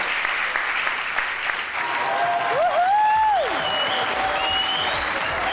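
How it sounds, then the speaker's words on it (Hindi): Studio audience at the Pakistani comedy talk show Hasna Mana Hai breaks into loud, sustained applause, with a couple of sliding whistle-like tones rising above the clapping. "जो टास्क असाइन था रोने वाला, वो रोने वाला राबिया के लिए तालियां होनी चाहिए भाई"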